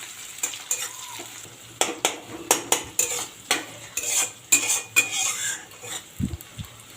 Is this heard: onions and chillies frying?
yes